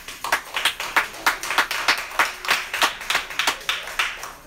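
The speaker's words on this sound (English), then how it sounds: "clap right now" Scattered, rhythmic clapping from a comedy show audience in a room, sharp individual claps repeating in a loose, uneven beat, fairly close and with no other sound.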